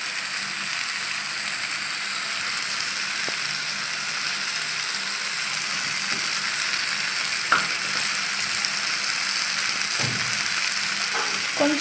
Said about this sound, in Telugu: సో ఇదంతా ఫ్రై చేసుకోవాలి.